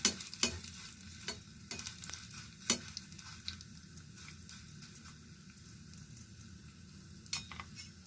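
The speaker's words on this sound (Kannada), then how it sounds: "ಸಾಸಿವೆ ಸಿಡ್ದಿದೆ ಈಗ ಗ್ಯಾಸ್ ಆಫ್ ಮಾಡ್ಕೊಳ್ತೀನಿ" Mustard seeds, cumin, dry red chillies and curry leaves splutter in hot oil. Soft crackling runs underneath, with scattered sharp pops close by and no voices.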